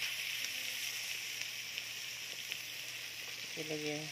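Butter sizzles steadily in a frying pan as seafood in garlic and butter is cooked, giving a continuous close, even crackling hiss. A brief stray tone near the end rises above it.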